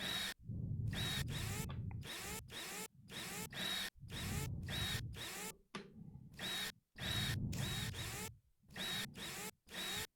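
Power drill spinning out the many cover screws on the Perseverance rover in a rover repair video game, in repeated short whirring bursts separated by brief pauses, loud and close.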